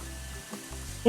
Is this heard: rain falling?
yes